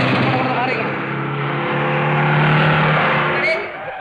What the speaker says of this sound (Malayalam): ആ വഴി ഒന്ന് കാറ് കാർ കടന്നു പോട്ടെ